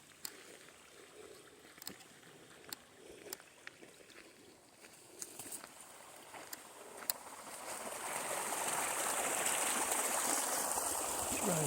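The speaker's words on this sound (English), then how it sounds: "Oh, there's a little creek." A small creek at Boxcar Rocks trickles and babbles steadily, growing fuller and louder toward the end, with scattered clicks and taps over the flow.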